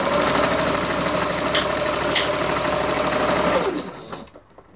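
A sewing machine runs steadily, stitching in the ditch along the seams of a beginner's quilt, with a close, continuous mechanical whir that stops near the end.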